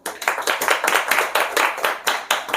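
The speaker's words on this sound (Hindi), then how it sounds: "ताली तो बजाओ।" Audience applause at a Brahma Kumaris spiritual class in Mount Abu, a steady burst of many hands clapping together, fairly close and continuous for a couple of seconds with no talk over it.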